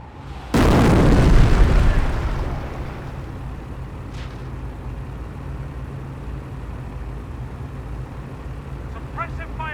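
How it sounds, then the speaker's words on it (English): In the video game Company of Heroes, an incendiary mortar shell lands with a sudden loud boom that rolls off into a rumbling decay over a few seconds, followed by a steady low battlefield drone and faint distant crackles. "Order the half-track to barrage the infantry with Notice the incendiary mortar ability recharges faster if the munitions half-track is nearby."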